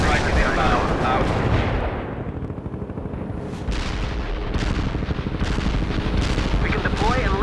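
Battlefield artillery and gunfire from the video game World in Conflict, a dense continuous barrage of booming blasts and crackling shots that fills the scene, briefly thinning before heavy impacts return, with radio voices speaking over it.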